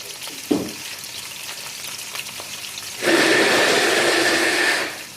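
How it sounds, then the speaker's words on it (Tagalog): Zucchini and pumpkin go into a pan to sauté: a soft knock, a quiet pause, then a loud, steady hiss of sizzling that lasts nearly two seconds before fading. "Zucchini. Pumpkin. Igisa muna natin para mabango."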